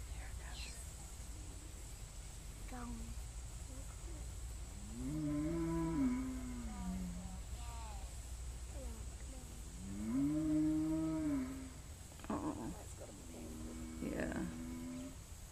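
A cow moos near her newborn calf, two long low drawn-out calls close by with shorter grunts between, while people speak quietly in the background.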